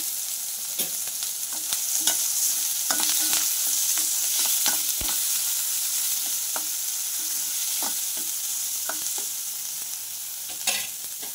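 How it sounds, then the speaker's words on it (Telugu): Onions and curry leaves fry in oil for a mushroom curry, giving a loud, continuous hiss with scattered clicks from a stirring spoon, and no one speaking. "ఉల్లిపాయ ముక్కలు మంచిగా వేగాయి."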